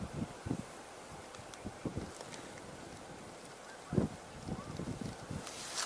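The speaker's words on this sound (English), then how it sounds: "I believe I am hearing the tundra swans in the distance" Tundra swans call faintly from far off, a few soft honking notes rising above steady outdoor wind noise and background hiss, with no voices.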